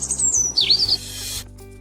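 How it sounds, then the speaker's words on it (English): A robin sings a brief, bright, high chirping phrase with rising and falling whistled notes, clear and close, ending abruptly. "The robin, with its reddish breast and bright song, is a beloved symbol of spring."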